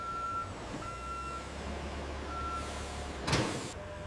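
Truck reversing at a loading area where packed mayonnaise cartons are loaded, its backup alarm giving several evenly spaced beeps over a low idling engine rumble, ending with a short hiss like an air brake release.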